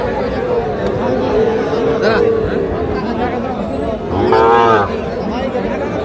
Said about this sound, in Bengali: প্রচুর চাহিদা সম্পন্ন শাহিওয়াল জাতের ষাঁড় বাছুর যেখানে কেনাবেচা চলছে